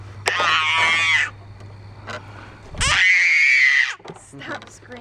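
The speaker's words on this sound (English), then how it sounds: "Stop screaming." A child lets out two long, piercing screams, each over a second, close and loud, with short quieter sounds in between.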